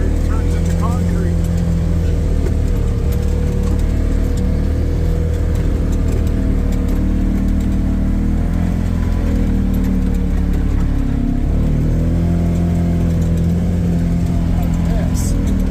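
A John Deere dozer plows setting-up snow along a trail among birch trees, its engine droning loud and steady throughout with slight changes in load, while a person talks over it.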